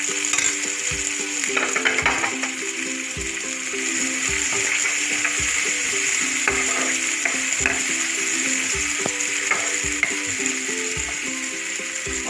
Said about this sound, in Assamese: এতিয়া মই চবখিনি বনাবৰ কাৰণে এয়া পিঁয়াজ ভাজি ল'ম